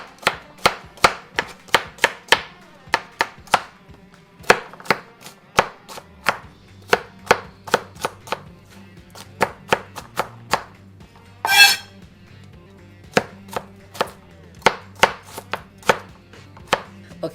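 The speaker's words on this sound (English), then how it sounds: "I will chop a handful of garlic," A knife rough-chops a handful of garlic on a cutting board, a steady run of sharp, close knocks in quick bursts with a brief pause midway, alone without talk.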